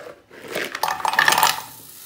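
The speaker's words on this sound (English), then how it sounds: "I'm just gonna quickly put this in the frying pan now" Beef clatters and sizzles into a metal frying pan, a brief scraping and rattling burst that swells then fades, close by.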